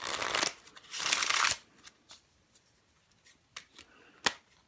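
A deck of lesser-quality playing cards riffles in two close bursts, followed by several crisp, scattered snaps and taps as the deck is cut, with no talking.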